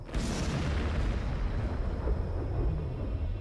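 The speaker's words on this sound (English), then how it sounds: "Stalin institutes the salvo of cannons to celebrate each victory" A wartime Soviet cannon salvo fired to celebrate a victory lands as one heavy, booming blast followed by a long, rolling rumble, loud and alone.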